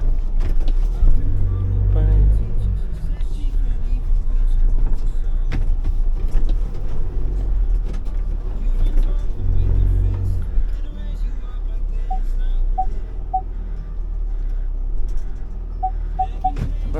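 A delivery driver's car eases into a corner parking spot: a steady low engine rumble with a few swells as it maneuvers, then soft beeps near the end, while someone talks over it.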